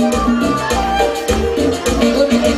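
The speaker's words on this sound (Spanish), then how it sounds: "Y esa flauta que suena así" Flute lines carry over a live orchestra's full band backing at a bolero performance, loud and continuous with rhythmic low accompaniment throughout.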